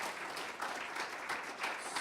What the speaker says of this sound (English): So give them a great big round of applause